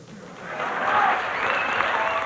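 A crowd at a Bill Clinton campaign speech bursts into applause, a dense wash of clapping that swells and holds steady with no talking.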